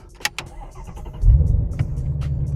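A few sharp clicks inside a car, then a Shelby GT350 engine starts and settles into a deep, rumbling idle close by.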